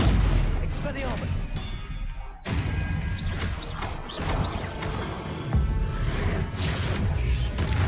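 Expelliarmus spell effects in Hogwarts Legacy, bursts of magical whooshes and crashing impacts amid combat clatter, fairly loud and dense throughout with short breaks.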